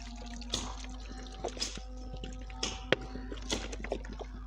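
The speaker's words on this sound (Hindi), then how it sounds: "इस पर अब ऐसे पानी लगा देना आपने।" Water is poured onto a newly planted ishq pecha vine, heard as quiet, scattered drips and small splashes over a low steady hum, with no talking.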